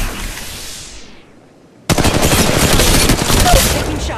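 Dense automatic gunfire from an Apex Legends Mobile match bursts in loud and close after a quiet fade, sustained rapid fire with no pauses through the rest.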